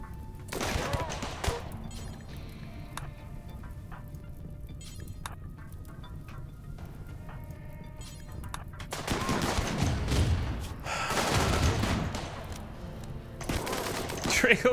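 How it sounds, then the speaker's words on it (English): A triple rocket launcher fires in the video game RimWorld, with rapid volleys of blasts and booms, loudest in two dense bursts near the end, over a quieter game background. "there's about to be a triple rocket launcher"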